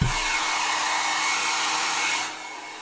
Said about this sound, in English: I could do with just getting the hairdryer on it